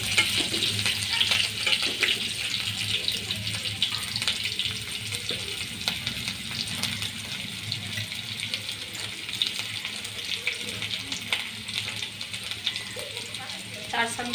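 Chopped green chilli frying in hot oil for a fried egg curry with cabbage, a continuous bright hiss and crackle with faint stirring throughout, fairly steady and close.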